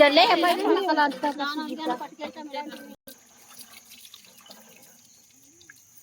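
Muddy water running from a tap, a splashing stream under a man's speech, then quieter trickling and drips once the talking stops.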